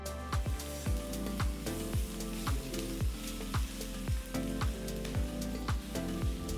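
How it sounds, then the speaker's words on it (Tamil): Finely chopped garlic and green chillies fry in hot oil with a loud, constant sizzle, punctuated by regular sharp scraping strokes of a spoon stirring the pan. "எண்ணெய் சூடானதும் பொடுசாக நறுக்கின 6 பல்லு பூண்டு, பொடுசாக நறுக்கின 3 பச்சை மிளகாய் சேர்த்து நல்லா வதக்குங்க"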